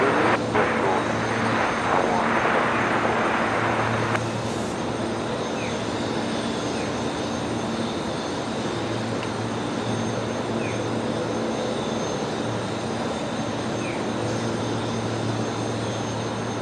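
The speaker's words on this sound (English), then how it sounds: "Steve Roberts loves hearing the props. I'm a big fan of the Saabs, the beautiful sound they make." Saab turboprop aircraft at Brisbane Airport, with a steady, loud, droning propeller and engine roar held throughout and a slightly louder, rougher stretch in the first few seconds.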